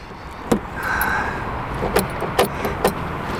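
A Renault 19's starter cranks over the engine with a steady mechanical whir, punctuated by several sharp clicks and clunks, close and fairly loud.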